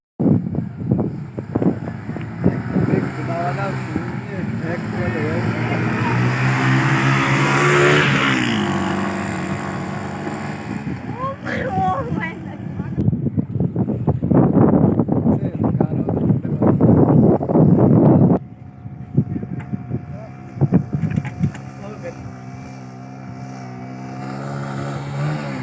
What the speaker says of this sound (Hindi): मैं आपको दिखाता भी हूँ कि ये रेत के ऊपर मोटरसाइकिल कैसे दौड़ाते हैं